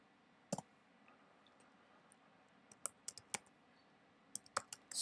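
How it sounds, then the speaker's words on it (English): Keys on a computer keyboard tap in a few quiet, scattered clusters, with soft isolated clicks separated by pauses against a faint room hiss. "let me go ahead and just type that so people know where to go"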